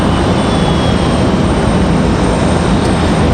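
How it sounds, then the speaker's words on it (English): Delta CRJ regional jet engines roar steadily and loudly at Raleigh-Durham International airport, a continuous broadband rumble with a faint high whine, no voices. "The Delta CRJ finally making their moves."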